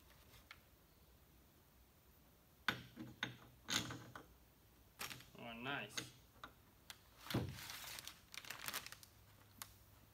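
Metal clicks, ticks and scrapes from a Vietnam-era SKS rifle as its bolt and rod are fitted back together after cleaning, coming as scattered close-up bursts with quiet gaps between them.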